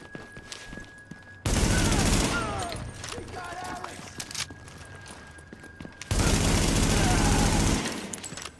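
Heavy gunfire in The Division during a fight at the Police Academy: two long, loud bursts of rapid automatic fire, each lasting a couple of seconds, with quieter game sounds between them.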